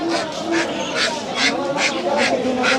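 Ducks being sold at a busy village market in Bangladesh give repeated, evenly spaced quacks over steady crowd chatter and market bustle.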